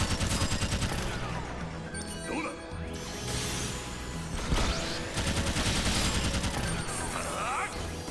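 A Graviton weapon fires in a sci-fi video game, with a dense, continuous barrage of loud layered blasts, crashes and rumbling effects over music, and swirling energy sweeps recurring across the stretch.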